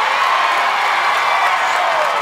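A large studio audience at a televised obstacle-course competition cheers and shouts in a loud, dense, continuous roar, with whoops rising from the crowd throughout.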